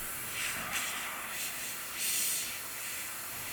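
Airbrush spraying paint in thin lines at very close range onto a scale model, a soft steady hiss with brief louder bursts, compressor pressure turned slightly down, heard alone.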